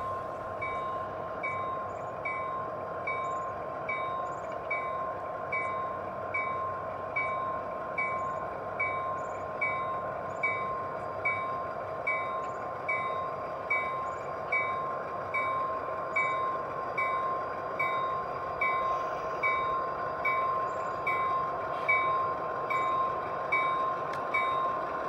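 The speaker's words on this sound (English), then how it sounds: "the mid-train DPUs now pull out of the facility and onto the main." Rhythmic clickety-clack of G scale model BNSF locomotives rolling steadily along the track, soft and continuous, with a faint whirring motor and no voices.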